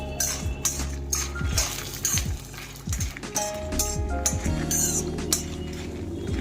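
Coriander seeds are added to a hot pan alongside asafoetida, producing scattered light clicks and clinks of seeds hitting metal over a steady background hum.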